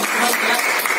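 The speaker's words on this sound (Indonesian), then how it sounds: "Oke, tepuk tangan." Students in a classroom clap together in a brief, dense burst of applause, loud and close.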